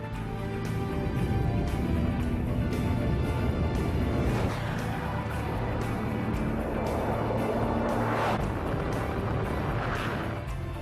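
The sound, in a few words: Bugatti Veyron supercar engine driving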